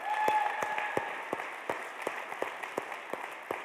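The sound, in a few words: audience applause at convocation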